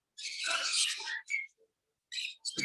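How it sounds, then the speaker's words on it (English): Green-cheeked conure parrots in a rescue room giving sharp, bright chirps and squawks in short bursts, one long call and several clipped ones, close and fairly clear. "we do have our flock of 5 green cheeks"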